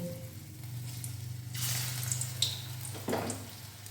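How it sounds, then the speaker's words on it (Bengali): Small drumstick flower pakoras with peas are dropped into hot oil, each drop setting off a brief burst of sizzling over a low steady hum; no one speaks. "এগুলো ছোট ছোট পকোড়া বানিয়ে তেলে ছেড়ে দিচ্ছি"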